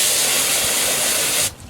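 A hose sprays water down onto a pool pump and its electrical parts during a pool opening, a loud steady hissing wash that stops abruptly near the end.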